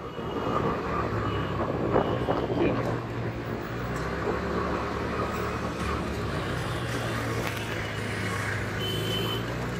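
Dense road traffic heard from a moving TVS Ntorq scooter in India, a steady loud rumble of engines and road noise with scattered horn-like beeps throughout, no voices.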